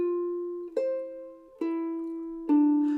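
Soprano ukulele notes close a riff: a held ringing note followed by three crisp plucks spaced about a second apart, intimate and clear, with no speech over them.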